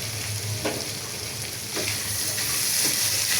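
Cashews and raisins frying in hot oil for fried rice with capsicum, giving a steady crackling sizzle with a few brief stirring clatters, close and continuous without talk.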